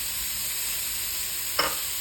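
Pork frying for a Szechuan-style stir fry noodle dish gives a steady, close hiss of sizzling fat, with one brief sharper crackle near the end and no voices.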